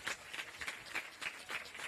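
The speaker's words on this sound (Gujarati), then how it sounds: "એકવાર તાળીઓથી અમને આપણે વધાવીએ" An audience at a Hindu religious gathering gives a short burst of clapping, moderately loud and somewhat uneven in rhythm, with no talk over it.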